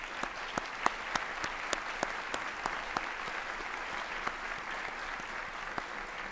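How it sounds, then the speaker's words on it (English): Audience at a Buffalo State campus address applauds new staff, a steady wash of clapping with sharp individual claps standing out, moderately loud and sustained for several seconds with no talk. "give them a round of applause"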